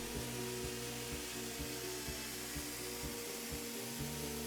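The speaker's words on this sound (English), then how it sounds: "Again, using the DA sander, start sanding the excess material." A DA sander grinds down excess material on a cracked plastic part during a repair, a steady motor whir with a regular rhythmic pulsing, continuous and close with no talk.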